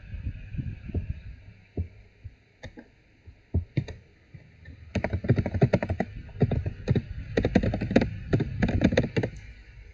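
Computer keyboard keys clack up close, starting as sparse single taps and then building into quick, dense bursts of typing.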